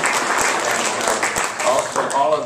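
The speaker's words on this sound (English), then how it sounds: "let's give them a round of applause" An audience at a UCLA event on Chinese America claps steadily in a dense, continuous round of applause, with some talking in the room alongside it.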